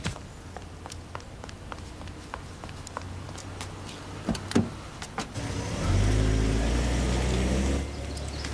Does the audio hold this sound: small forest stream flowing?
no